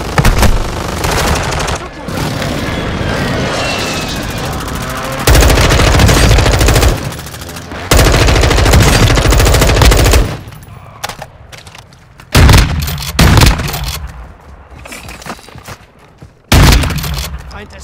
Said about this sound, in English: someone's shooting at you, bro, over here